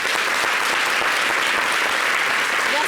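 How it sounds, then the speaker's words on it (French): Studio audience applause on a French local TV talk show, a steady dense wash of clapping that stays loud and even throughout without voices. "Ça s'applaudit quand même."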